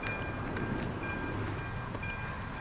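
A train rumbles steadily at a railway level crossing in Pavlov, a continuous low rolling drone with faint tonal ringing, heard without speech.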